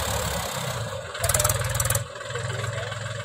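A Mahindra 265 DI tractor hauling a heavily loaded trolley sits stuck in wet mud, its diesel engine chugging at idle, then surging into a louder throbbing rev before settling back to a steady rumble.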